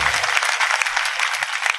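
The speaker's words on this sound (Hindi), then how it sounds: "ताली बजाओ" A crowd claps loudly and steadily during a spiritual discourse, producing dense, continuous applause with no talking over it.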